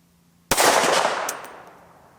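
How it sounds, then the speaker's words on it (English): A single loud, sharp gunshot from a .357 SIG handgun cracks out after a quiet moment, then a long echoing tail slowly fades over the next second and a half. "as I pressed the trigger on the 357 SIG"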